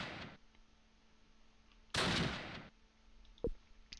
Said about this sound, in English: Is that shooting at Danny boy?